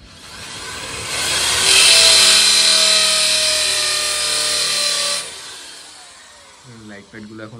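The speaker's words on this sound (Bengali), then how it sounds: "সেই জন্য বাবু এখানে ড্রিলিং করছে।" An electric drill bores into a balcony wall during light fitting work, a loud sustained whine lasting several seconds before winding down, with a brief voice-like sound near the end.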